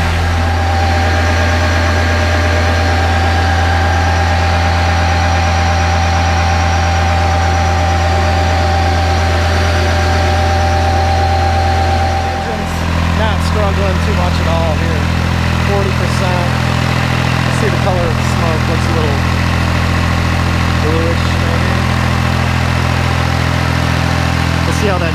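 Kubota B7100 diesel tractor running old fuel while driving a NorthStar PTO generator, a loud steady hum that shifts pitch midway as the throttle is adjusted, with someone speaking over it.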